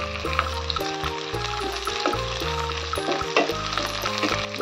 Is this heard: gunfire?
no